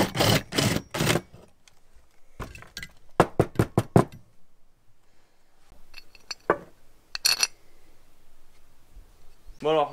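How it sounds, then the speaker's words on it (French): A center punch taps a metal part to mark holes before drilling, giving a series of sharp, close metallic knocks in quick clusters with short pauses between them. "Je vais prendre un pointeau pour marquer mes trous"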